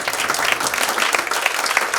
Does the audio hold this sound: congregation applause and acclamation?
yes